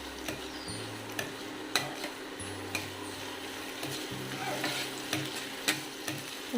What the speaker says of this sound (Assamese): একদম কমাই পেলাই ভাজি থাকিব ভালদৰে পিঁয়াজখিনি